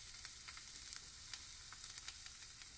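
Herb-crusted chicken searing herbs side down in a thin coat of olive oil, a steady quiet sizzle with soft crackling pops and spits throughout.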